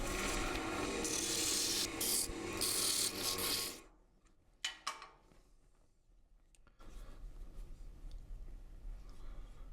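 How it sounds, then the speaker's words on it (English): Sandpaper rubs over a turned wooden yarn winder part in a woodshop, a loud steady rasping scrape for several seconds that stops abruptly, then quieter scattered handling noises and a faint continuing rub. "So I'll just clean that up with some sandpaper."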